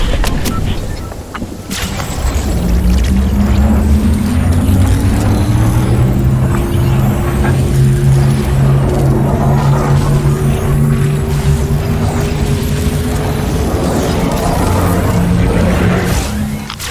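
A loud engine revs and drones steadily in a video game, its pitch rising as the vehicle speeds up and then holding, with a faint voice underneath.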